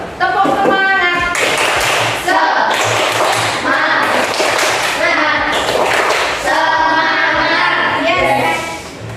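Classroom of pupils doing a rhythmic group 'tepuk semangat' clap pattern, loud and close, with bursts of sharp clapping in patterned groups under and between children's and teacher's voices.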